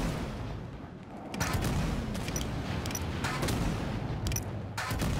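Gunfire in Halo 5: Guardians, a sustained din of shots with sharper bursts and fusillade-like volleys coming in waves over constant battle noise, loud and close, with no talking.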